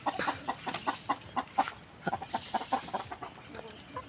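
A large, tall chicken clucks in a rapid, uneven series of close, fairly loud bursts, with brief pauses between clusters.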